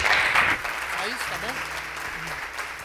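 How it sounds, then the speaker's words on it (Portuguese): A church congregation applauds during a worship service, with a brief burst of clapping at the start that quickly fades under a preacher's speech. "Aplauda ao Senhor em nome de Jesus."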